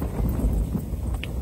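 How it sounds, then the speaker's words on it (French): A strong east wind in a snowstorm on Lac Saint-Jean in Quebec, Canada, roars steadily against the microphone as a deep, continuous rumble with no letup. "En pleine tempête. Le matin, c'est la tempête."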